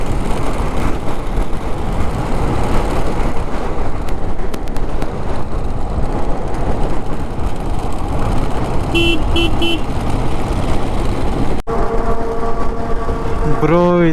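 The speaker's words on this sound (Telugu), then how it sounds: "ముందు లారీ సౌండ్ ఏదో వస్తుంది టైర్ది." Road noise from lorries on an Andhra highway heard from a motorcycle, a loud continuous broadband roar of tyres and engines, with a few brief horn toots and a sharp click late on.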